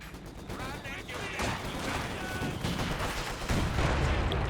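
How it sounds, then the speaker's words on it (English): Mortar pit shelling in Company of Heroes 2, heard as dull impacts and rumbling blasts in a dense battle mix of gunfire, with a commentator talking over it. "Big hits from the mortar pit there."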